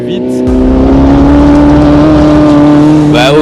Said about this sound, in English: The VW Beetle here is from 1967.